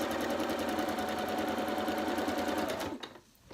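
A sewing machine stitches fabric for triangle bunting flags with a fast, steady mechanical whir at close range, running continuously for about three seconds and then stopping abruptly.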